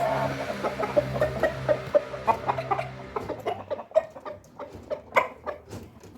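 Several roosters at an auction cluck and squawk close by in rapid, irregular bursts, a busy flurry of fowl calls with no talking.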